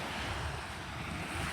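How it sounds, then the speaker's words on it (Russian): Small sea waves wash steadily onto a Turkish shore, a constant close rushing surf mixed with wind buffeting the microphone, with no voices. "Сейчас волны небольшие."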